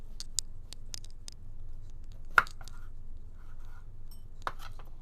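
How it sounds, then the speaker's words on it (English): Knife slicing a pepper for stuffing, a handful of faint, crisp cuts and taps spaced irregularly, with one sharper snap in the middle, quiet and close with no talk. "Just in order to stuff the peppers, first you'll have to slice it."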